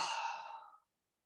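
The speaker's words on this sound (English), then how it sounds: "Take a deep inhale here and enjoy it. And an exhale." A single soft, breathy exhale during yoga mountain pose, close and quiet, fading out within a second into silence.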